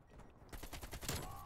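Rapid, loud gunfire bursts out in the Call of Duty: Black Ops Cold War video game, several sharp shotgun-style blasts in quick succession after a quieter lead-in.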